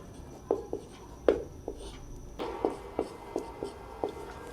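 A pen writes out the assumed function on a surface during a Class 12 math lesson, making a series of short, distinct scratching taps at an uneven rhythm, close but quiet, over low room noise.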